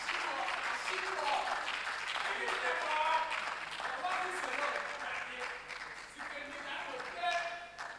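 Audience applause at a university business quiz contest semi-final as a team is welcomed on stage, moderate steady clapping with voices talking over it, then easing off.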